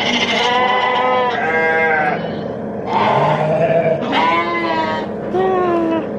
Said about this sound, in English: So, lots of sheep.